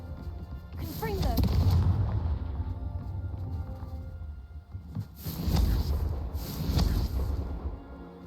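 Confringo fire-blast spell in the Hogwarts Legacy video game, booming explosive bursts around the first and second seconds and again near the fifth to seventh, with crackling tails between them.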